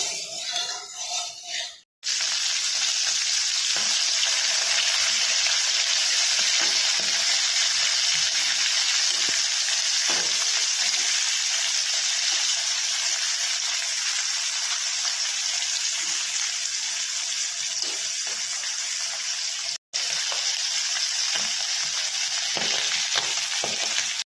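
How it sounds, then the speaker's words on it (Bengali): Small mourala fish frying in hot oil in a pan, a loud, continuous close-up sizzle that erupts suddenly after a brief quieter start, holds steady with faint crackles, and cuts out for an instant near the end. "কড়াইয়ের তেলটা গরম হয়ে গেছে, এবার মাছগুলো দিয়ে দেবো।"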